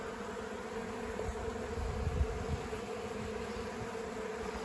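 Bees buzzing at an apiary while frames are worked, a steady close hum of many insects swelling slightly midway, no voices.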